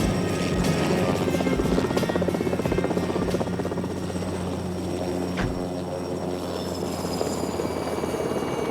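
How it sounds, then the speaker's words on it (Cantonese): A helicopter flies overhead, its rotor producing a continuous loud, pulsing thump with a buzzing engine drone that holds steady from start to finish. "唔係喎，真係有直升機"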